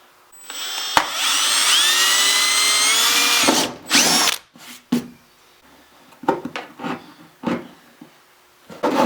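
Drill boring holes through canoe gunnels, a loud continuous whirring run of about three seconds, then a short second burst followed by scattered handling knocks and clicks.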